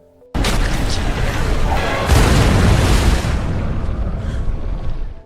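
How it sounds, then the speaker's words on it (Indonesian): A large explosion in a film erupts suddenly into a loud, sustained roar, with a second heavy burst following, then slowly rumbles and fades with debris noise. "merelakan dirinya meledak bersama dengan Reverse demi keselamatan teman-temannya"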